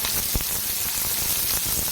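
Chopped onion and green chili fry in hot oil for a besan pithla tempering, giving a dense, continuous sizzle for a brief moment.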